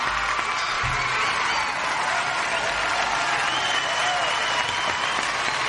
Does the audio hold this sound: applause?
yes